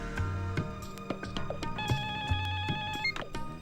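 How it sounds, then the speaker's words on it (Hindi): An old-style telephone bell rings repeatedly in short bursts, clear and fairly close, with no one talking. "जी आनंद जी, फोन है आपके लिए।"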